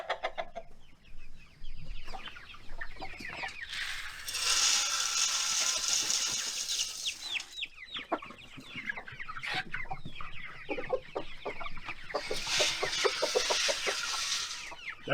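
Flock of about fifty Ranger broiler chickens clucking and chattering steadily while feeding at a homestead, close and busy, with bursts of brighter calls and a mechanical rattle partway through; no talk.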